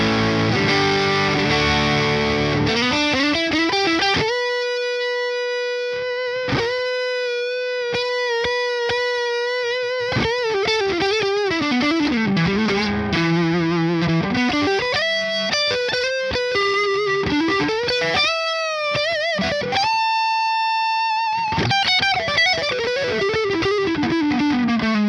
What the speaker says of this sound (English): Compressor back on.